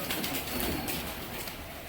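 Pigeons, including a red Chinese breed, cooing softly and continuously in a loft, with steady low murmuring and faint background rustle throughout.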